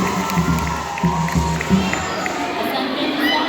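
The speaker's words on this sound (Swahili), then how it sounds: "na wenyewe tuwapigie makofi" A crowd at an Easter vigil gathering at a Montessori school claps and cheers for the sisters and students. Steady, dense applause mixes with shouts and children's voices and carries on throughout.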